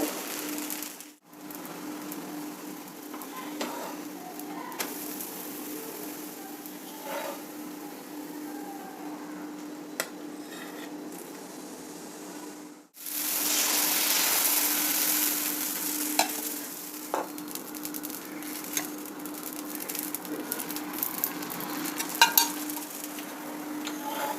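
Spinach set dosa roasting on a hot pan, a continuous close crackling sizzle that briefly cuts out and then returns louder and denser, with occasional light scrapes over the steady hiss.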